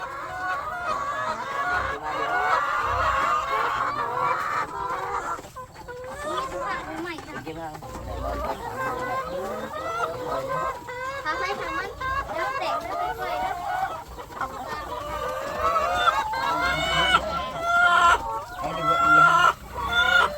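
Chickens on a farm, a flock of about seventy laying hens at evening egg collection, cluck in busy overlapping bursts throughout, close and fairly loud, with people talking over them.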